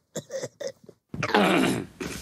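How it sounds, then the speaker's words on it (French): A few short, muffled vocal sounds give way to a harsh, rough cough from a man with a cold, heard close and slightly lo-fi on an old demo recording of "Imagine". "il est enrhumé. Donc, il tousse"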